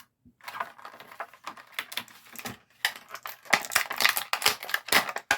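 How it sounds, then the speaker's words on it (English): Scissors cutting through the plastic packaging around a Masters of the Universe Origins Sorceress action figure, with close, irregular snips and crinkling plastic in uneven bursts. "I'm going to have to cut that piece of plastic right there"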